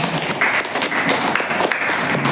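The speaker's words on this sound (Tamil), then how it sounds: "அதனால இன்னொரு தடவை ஒரு கைத்தட்டு கொடுத்துடலாமா?" An audience at a New Year celebration program applauds a competition contestant, a continuous loud patter of many clapping hands filling the room for a couple of seconds.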